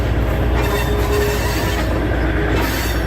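A train rumbles past loudly and close by at a railway crossing, with a constant roar of wheels on rails and a thin metallic squeal.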